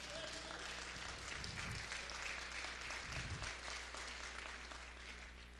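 A church congregation claps together, a dense, even wash of applause that carries on steadily throughout and fades slightly toward the end, heard from within the room with no voices over it.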